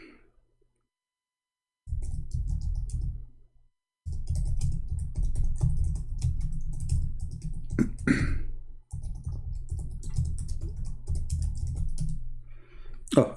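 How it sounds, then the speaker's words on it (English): Steady typing on a computer keyboard, a dense run of close clicking keystrokes that pauses briefly and resumes, with no talking. "I was typing in Arabic."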